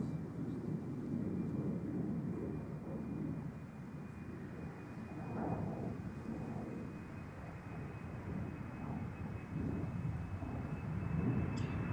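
British Airways airliner taking off at Amsterdam Schiphol, a deep sustained engine roar rumbling steadily at a distance throughout, with swelling waves of low thunder-like noise and no talk.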